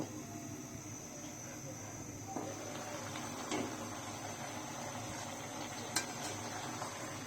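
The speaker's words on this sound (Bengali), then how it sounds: "ফুলকপি, শিম আর আলুটাকে একটু কষিয়ে নিচ্ছি" Cauliflower, beans and potato being stir-fried with spices in a pan, a quiet steady sizzle with occasional soft clinks and scrapes of a utensil against the pan.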